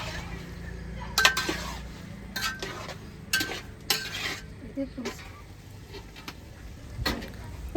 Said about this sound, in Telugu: ఇప్పుడు కాలీఫ్లవర్ టమాటా గ్రేవీ చక్కగా కలిసేటట్టు ఒకసారి కలుపుకోండి